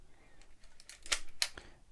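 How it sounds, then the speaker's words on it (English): A film camera's shutter is released and the film advance is wound, producing a quick run of small mechanical clicks and ratcheting snaps, two sharper shutter-like clacks standing out, close and fairly quiet. "you may have to release the shutter and wind the film a couple of times"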